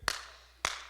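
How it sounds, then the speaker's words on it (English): Two sharp single hand claps in a church, each with a ringing tail of room reverb, picked up by an ungated microphone. The claps are about half a second apart, loud and close, with no talk. "and I clap here"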